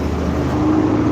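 A Dodge Charger passes close by, its engine and tyre roar filling the moment as a loud, steady rush of road noise with no speech over it.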